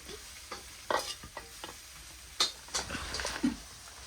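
Pork frying with onions in a pan, sizzling with bursts of scraping and stirring as the meat goes in, close and fairly quiet.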